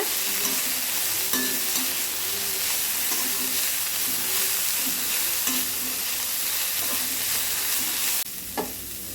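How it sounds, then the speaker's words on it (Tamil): Chopped cabbage sautéing in a pan while vegetable fried rice is cooked, giving a steady bright sizzle with periodic scraping stirs throughout, fairly loud and close, then a brief clatter near the end. "கோஸையும் போட்டு நல்லா ஒரு 2 நிமிஷம் வதக்கிக்கலாங்க."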